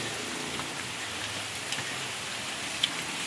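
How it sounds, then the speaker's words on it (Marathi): Heavy rain pours down in a village, a dense even hiss of drops striking the ground and surfaces, with a few brief louder splashes and no voices. "गावी पाऊस पडतोय लय."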